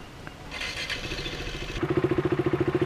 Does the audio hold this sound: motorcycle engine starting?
yes